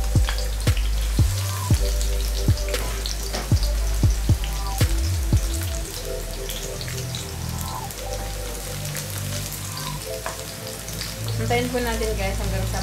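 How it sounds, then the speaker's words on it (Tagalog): Sliced garlic frying in olive oil in a pan, a steady crackling sizzle with scattered sharp pops near the start, continuous and close with no talk. "So nalagay po natin yung ating garlic."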